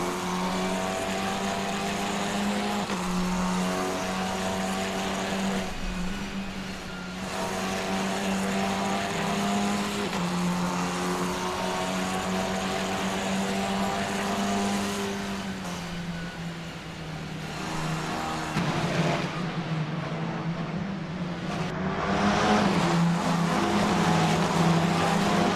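Formula 4 race cars on a track run down a long straightaway, a sustained high engine whine rising and shifting in pitch as revs climb, loud and continuous, with no talking.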